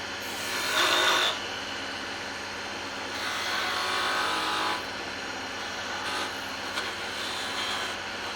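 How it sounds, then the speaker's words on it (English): A steady abrasive scraping and hissing of a lathe cutting tool biting into spinning wood while turning a snowman ornament, coming in sustained passes with brief pauses between them. "I'm going to do some cuts here just to take some wood away"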